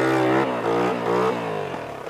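A motorcycle engine revs hard and loud up close, rising and dipping in pitch over about two seconds as the rider tries a wheelie.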